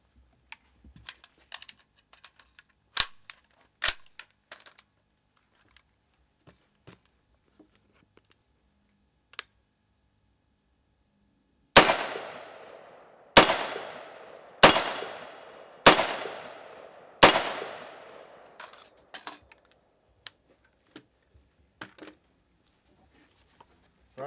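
Five sharp gunshots from green tip 5.56 M885 rounds strike an armor plate in quick, evenly spaced succession, each crack loud and close with a short decaying ring, after a long quiet stretch of faint clicks.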